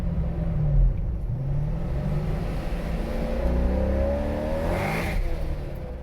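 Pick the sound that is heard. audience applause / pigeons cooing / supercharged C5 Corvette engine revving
supercharged C5 Corvette engine revving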